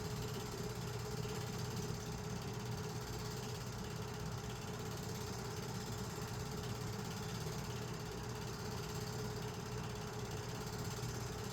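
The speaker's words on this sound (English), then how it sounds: "Steam engines backing off of the display tracks in the servicing area from the night before" Norfolk & Western 1218 steam locomotive backing off display tracks in a rail yard servicing area, a steady low engine rumble and hiss droning continuously with no distinct chuffs, moderately loud throughout.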